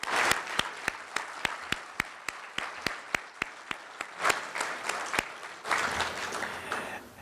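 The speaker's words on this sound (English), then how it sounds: "Let's give a round of applause to our new members here." Audience applause welcoming new members at a meeting, a wash of many hands clapping with a few sharp, regular louder claps standing out, swelling briefly near the end.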